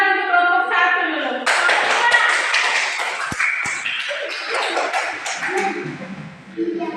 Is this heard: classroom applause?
yes